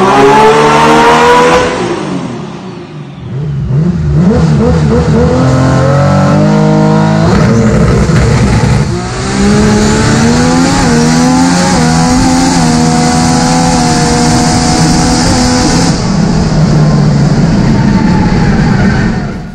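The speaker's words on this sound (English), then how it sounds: "so it's a pretty unique drag car" Loud, close 2,000-horsepower Nissan RB engine in a 300ZX drag car, revving hard and rising in pitch through several climbs, with a brief dip near the start before roaring steadily on.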